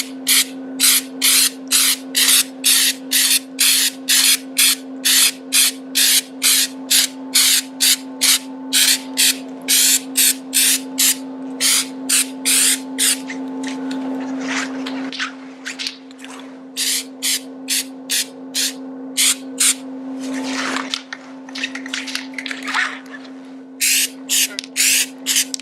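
Flex Seal coating is sprayed onto a backpack in rapid short hissing bursts from an aerosol can, then a few longer sprays, loud and close over a steady low hum.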